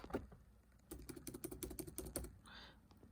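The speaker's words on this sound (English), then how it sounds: "So go back to the computer and type in." A brief flurry of quick keystrokes on a computer keyboard as numbers are entered, rapid even clicks for about a second and a half, quiet and close, with no talk.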